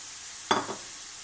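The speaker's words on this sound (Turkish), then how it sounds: "Şimdi bunun üzerine ıspanağımızı koyuyorum." Spinach dropped onto hot fried ingredients in a roasting pan, giving one quick soft burst of sizzle that fades within a moment over quiet room tone.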